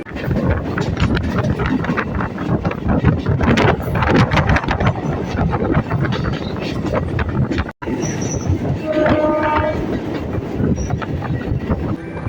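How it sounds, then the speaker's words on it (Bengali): A passenger train from Barasat to Boyra near the India–Bangladesh border runs along at speed through farmland, loud and close, with a continuous rumble and rhythmic clattering of wheels over the rails. "ছুটছে আমাদের এই ট্রেনটা নিজস্ব গতিবেগে"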